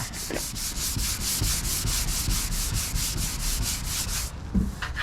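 A sanding block rubs back and forth over a car body panel up to a masking-tape line, a steady, close rasping stroke repeated rhythmically for several seconds before a brief pause and a knock.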